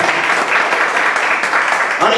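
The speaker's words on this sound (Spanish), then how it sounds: "Denle un aplauso al Señor." Dense, continuous clapping from a church congregation, steady and fairly loud throughout, with cheering voices mixed in.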